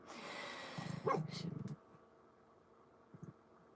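A dog gives a short, muffled bark and growl at moderate distance, followed by quiet and one faint bark later.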